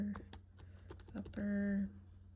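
Quiet, uneven taps of keys on a calculator keypad as values are typed in, a handful of quick presses ending in a brief electronic tone, close to the microphone.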